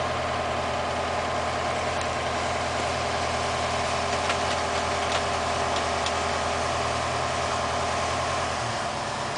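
A steady low boat engine drone runs throughout on Ha Long Bay, even and unbroken, like a motor idling nearby with no voices over it.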